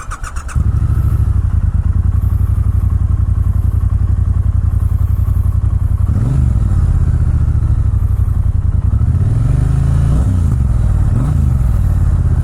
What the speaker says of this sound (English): Dual pea shooter exhaust. Sounds really nice.